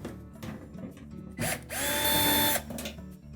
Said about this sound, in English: next we're going to remove a couple of screws that secure that back panel in place.